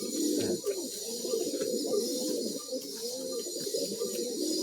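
Madrasi pigeons coo close by, a repeated chain of soft, throaty rolling calls from several birds overlapping steadily over a faint background hiss.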